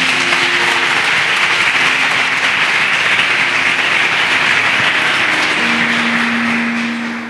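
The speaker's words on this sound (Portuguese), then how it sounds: "Palmas para o Senhor mais uma vez." A church congregation applauds loudly and steadily for several seconds, a dense wash of clapping that fades slightly at the end.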